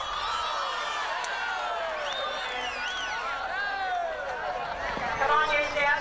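A crowd cheers and whoops at a draft horse competition with interstate rivalry, a continuous mass of voices with rising shouts and whistles, steady and moderately loud throughout.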